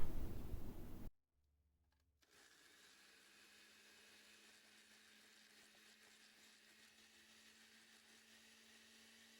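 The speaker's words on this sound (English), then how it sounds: "we're gonna put it in the blender, and then we're gonna crush it into a powdery form" A kitchen blender crushes cooled, dry black sesame seeds into powder. A loud grinding burst cuts off abruptly, and after a short silence the motor settles into a steady, fainter whirring hum.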